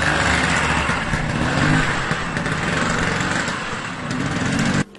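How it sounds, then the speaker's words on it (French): A running Vespa scooter engine, around 40 years old, buzzing at a steady high-pitched idle close by before cutting off abruptly at the end. "Liant l'acte à la parole, il démarre son scooter."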